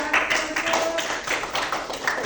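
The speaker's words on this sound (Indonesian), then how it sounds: "beri tepuk tangan untuk 300" A small class claps during a micro-teaching accounting lesson, a brief round of uneven, fairly close hand claps lasting a couple of seconds without speech.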